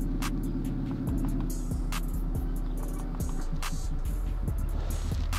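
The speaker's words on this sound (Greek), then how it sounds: "Πατάμε γκάζι και ακούμε έναν κινητήρα ενός αυτοκινήτου ενώ έχουμε ηλεκτρικό." Simulated combustion-engine sound played through a Maxhaust system on an electric Jaguar I-Pace EV400, a steady low droning rumble with rising and falling engine-like tones as the accelerator is pressed, close and continuous with no talk.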